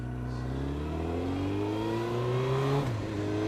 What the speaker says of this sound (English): And I'm on a motorcycle!